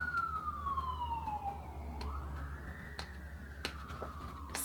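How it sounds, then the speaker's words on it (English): A siren wails from a distance, its pitch sliding down and then rising again, with a few faint clicks and taps nearby. "Sirens."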